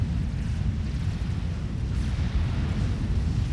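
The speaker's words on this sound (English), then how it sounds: "Now we're seeing the mobile missile launchers go in again" Mobile missile launchers firing in the real-time strategy game Forged Alliance Forever, a rumbling barrage of low booms and eruptive blasts rolling continuously at steady loudness.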